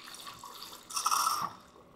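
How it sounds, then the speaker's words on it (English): A Drinkworks home bar machine pours a drink into a short glass, giving a brief gurgling, splashing stream of liquid for about half a second over a low machine hum, close and fairly soft. "this is pouring the amount for a short glass"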